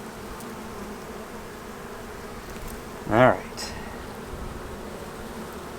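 Honey bees hum around hives in a soft steady drone, with one louder buzz as a bee passes close to the microphone; a person speaks briefly nearby.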